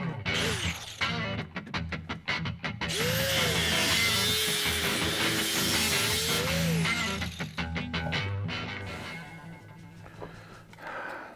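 A power saw cuts through metal reinforcement on a 1973 AMC Javelin body, a loud sustained rasping whine with shifting pitch, followed by intermittent scraping and knocking as the cut ends.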